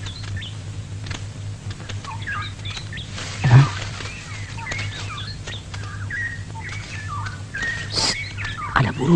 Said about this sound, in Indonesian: Ada burung, mana?